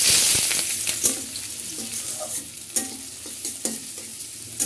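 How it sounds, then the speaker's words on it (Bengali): Onions hit hot oil in a wok with a loud initial hiss that settles into a steady sizzle, broken by several sharp stirring scrapes, close and with no talk. "কড়াইতে দিয়ে দিব পেঁয়াজ"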